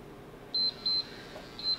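Three short, high electronic beeps from a home dumbbell workout timer, clear and close against a quiet background.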